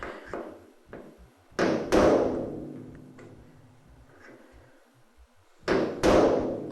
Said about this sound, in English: A ball peen. We'll just bring those little dimples down a little bit where it originally screwed on there.